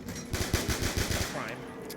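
Dual-wielded Five-seven pistols fire in a zombies video game, a quick rhythmic burst of about eight loud, close shots that then trails off into game ambience.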